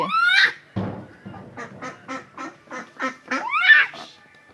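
Loud nasal quacking and honking from ducks, a rapid series of calls in a steady rhythm, close by with no talking.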